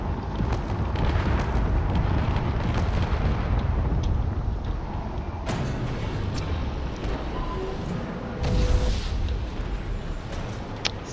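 Missile explosions strike spaceships in the space combat game Drone Wars, with a dense, continuous roar of booms and blasts and sharper bursts standing out near the middle and toward the end.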